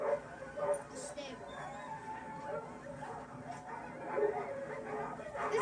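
Sled dogs bark, yip and whimper in bursts across the scene, with a person talking over them throughout.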